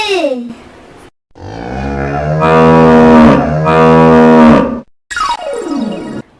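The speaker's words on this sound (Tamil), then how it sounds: "மாடு" A cow gives several loud, drawn-out moos close by, long bellowing calls separated by short pauses, with no talking.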